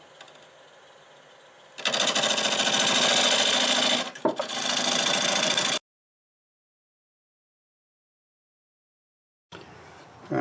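A wood lathe turns a redwood burl while a tool flattens its face, giving a loud, steady rasping cut of about four seconds with a brief break. Silence follows, then the lathe hum returns.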